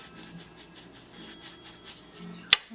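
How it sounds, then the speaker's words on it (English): An ink applicator rubbed around the edges of a handmade card with leftover ink, a soft scratchy scuffing in repeated short strokes, close and fairly quiet, ending with one sharp tap. "I'm just going to take this leftover ink instead of wasting it, put it on my ink applicator, and just"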